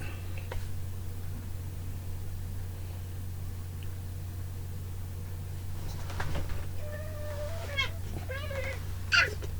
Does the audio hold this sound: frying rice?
no